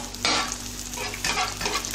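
Sfenj dough frying in hot oil, a constant close crackling sizzle with two brief swells as oil is spooned over the top.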